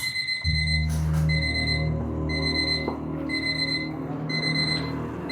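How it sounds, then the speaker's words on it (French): An alarm clock rings with repeated bursts of high electronic beeping, pausing briefly between groups, over a low steady hum. "C'est toi qui as réglé l'alarme hier soir."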